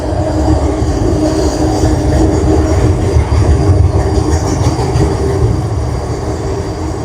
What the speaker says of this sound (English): Let this train go by, and then we'll continue. Because it's so loud.